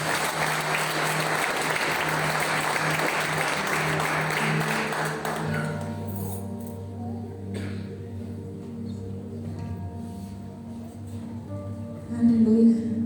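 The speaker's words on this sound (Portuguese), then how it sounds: "Você pode aplaudir o Senhor?" A church congregation at a Baptist service claps loudly and steadily for about five seconds, then the applause fades as a voice and soft music carry on.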